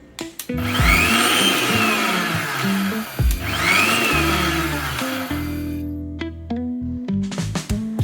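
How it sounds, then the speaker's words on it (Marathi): Mixer grinder blitzing dry ginger powder, dried mango powder and rock salt, two loud whirring bursts with the motor spinning up and winding down between them, then rattling clatter as the jar settles. "पाव कप सुंठ पावडर पाव कप सैंधव मीठ हे सर्व मिक्सरमध्ये घालून ग्राइंड करून घ्यावेत"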